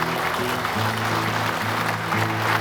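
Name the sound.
audience applauding a named hero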